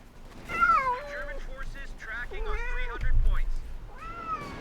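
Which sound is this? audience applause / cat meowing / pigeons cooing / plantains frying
cat meowing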